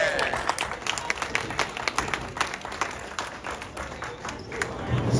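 A supportive crowd of bowling parents applauds at a bowling final, scattered clapping rising and falling for several seconds over the hall's echo while an announcer talks over it.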